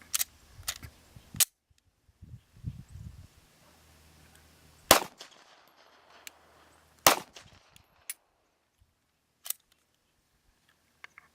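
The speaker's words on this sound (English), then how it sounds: "run a 10-round string and see the average of 10-round string through a Glock 19 with a 4-inch barrel" Shots from a Glock 19 pistol with a 4-inch barrel ring out one at a time at irregular intervals, each a sharp, quite muted crack with quiet gaps between.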